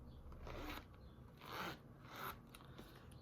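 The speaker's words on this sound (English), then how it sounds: "I'm going to do a little zipper there" The zipper on a vinyl album cover is pulled in a few short, quiet zips, each a brief raspy burst set close to the listener.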